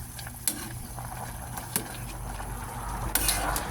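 Pork sinigang is stirred in a pot, a soft simmering bed broken by a few sharp clinks of a utensil against the pot, near and quiet with no talking.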